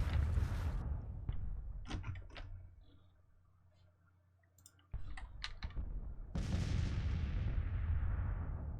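Troops firing on the enemy in the Civil War strategy game Grand Tactician, scattered musket and artillery reports, some sharp and near, others distant, with rumbling battle ambience that fades briefly before swelling again.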